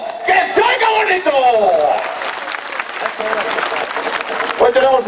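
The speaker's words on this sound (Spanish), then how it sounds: "¡Fuerte el aplauso! ¡Que se oiga bonito!" A crowd at a bull presentation event in Cocucho, Michoacán, breaks into loud, continuous applause mixed with cheers, whoops and shouting voices, staying strong throughout.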